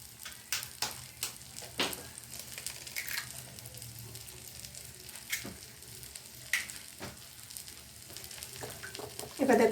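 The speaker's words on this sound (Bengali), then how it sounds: "এখানে 4টে ডিমকে ভেঙে আমি ফ্রাই প্যানে দিয়ে দিচ্ছি।" Four cracked eggs sizzle in a frying pan beside fried vegetables pushed to one side, a steady soft hiss broken by frequent sharp spatula scrapes and taps, close and moderately quiet.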